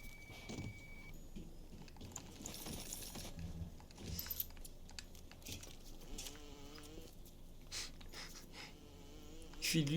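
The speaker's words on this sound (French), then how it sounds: "Il fait le bruit d'une mouche handicapée." Fly-like buzzing from a creature in the video game BioShock, a wavering insect drone that comes and goes under steady ambient game noise and occasional clicks, at moderate distance.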